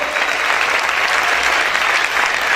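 A church congregation claps loudly and steadily, a thick, unbroken burst of applause close up with a faint crowd murmur underneath and no voice.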